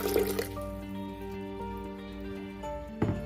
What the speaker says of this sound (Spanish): Vamos a ir agregando los 200 mililitros de agua